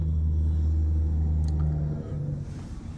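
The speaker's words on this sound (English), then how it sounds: "Here comes a truck" A truck passes on the road as a steady, heavy engine rumble that holds, then eases off near the end, with no talk.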